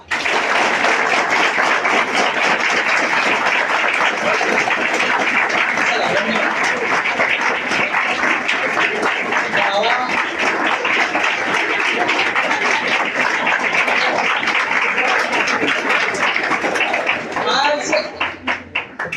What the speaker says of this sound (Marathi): वाजवा एकदा जोरात.